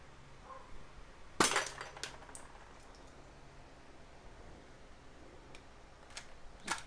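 A spring-type marble gun fires and a glass target shatters in one sharp crack, followed by scattered tinkling of fragments and a few faint clicks in a quiet room.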